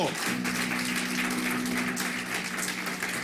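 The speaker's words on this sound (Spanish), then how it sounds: "Dale un aplauso a Jesús." Applause from a church congregation, a steady dense wash of clapping lasting the whole stretch, with a sustained tone and voices mixed underneath.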